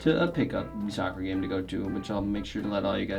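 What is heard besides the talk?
No distinct noise like a dog, phone or traffic.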